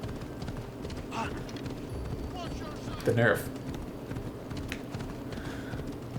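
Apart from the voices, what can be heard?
horse hooves galloping in Assassin's Creed Odyssey video game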